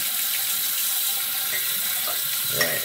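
Water runs steadily from a bathroom tap as someone rinses off after a shave, a continuous close hiss with a brief splash near the end.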